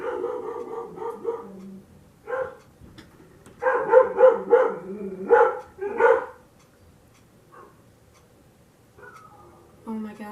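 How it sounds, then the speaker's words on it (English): A pet dog indoors lets out several bursts of barking and whining in separate clusters, moderately close, with quiet gaps between them. "Why is he whining? Why is he barking?"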